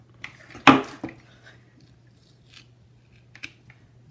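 Scissors snip through paper for a planner, a crisp loud cut near the start followed by a few quieter snips and rustles in an otherwise quiet room.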